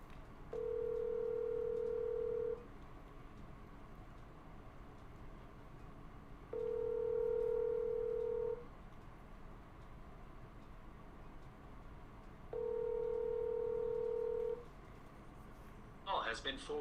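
A phone call that keeps ringing out, three long steady ring tones about two seconds each, spaced evenly over a low hum, then a short burst of noise at the end.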